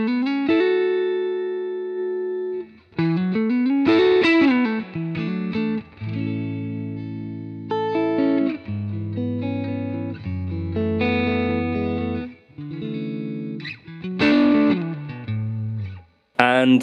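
An electric guitar plays through a Universal Audio Dream 65 amp emulation set to lead mode, giving a distorted, sustained tone. Several phrases of held notes and short runs ring out clearly, separated by brief pauses.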